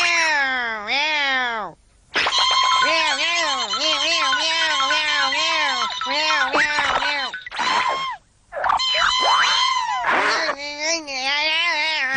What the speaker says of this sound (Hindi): मैंने अभी अभी बिल्ली की आवाज सुनी।